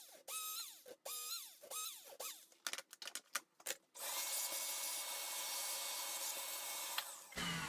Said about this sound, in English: we're gonna using the Dremel again with this kind of 3mm head to make this hole deeper